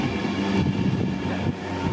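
A train in Flying Scotsman livery pulls out of Peterborough station, a loud, steady rumble of wheels and carriages with no voices.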